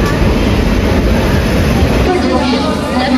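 A Delhi local train runs at its top speed with a loud, dense rumble and rattle from inside the coach, the noise constant and close throughout.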